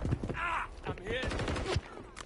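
Rapid bursts of gunfire in Call of Duty: Modern Warfare 3 multiplayer on the Vista Del Mar map, with repeated sharp shots at moderate loudness and voice chatter over the top.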